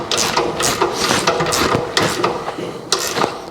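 Someone cranks a threaded rod on a Tri-Five Chevrolet front suspension, making repeated close metallic ratcheting and grinding strokes in an uneven rhythm, with no speech over it.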